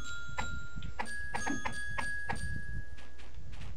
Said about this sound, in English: These are going to all ring, right? Yeah, they ring.